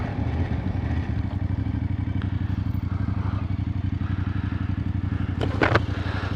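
A motorcycle engine runs with a steady, loud throb on a Berlin street on a public holiday, close by, with a brief clatter near the end and no talk.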